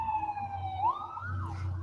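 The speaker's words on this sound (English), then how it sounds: "It's an ambulance." An ambulance siren wails, sweeping down and back up in pitch, heard at moderate distance over low traffic rumble.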